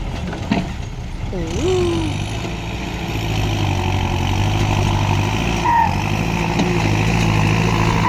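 A large pickup truck engine idles steadily and loudly nearby, a low continuous rumble with a few faint squeaks and brief clatters over the top.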